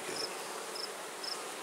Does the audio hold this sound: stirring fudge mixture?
no